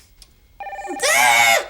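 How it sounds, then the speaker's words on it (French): A telephone bell rings loudly and close by, one sustained bright ring after a short tonal lead-in. A voice exclaims just before it. "C'est le téléphone."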